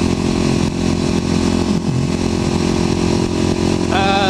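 A Yamaha WR dirt bike engine drones steadily and loudly throughout, with a higher rising whine near the end, heard as a constant ride-along engine roar.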